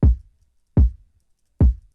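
Three punchy kick drum hits from a sample in Ableton Live, evenly spaced about three quarters of a second apart, each a deep thump that decays quickly, dry and alone.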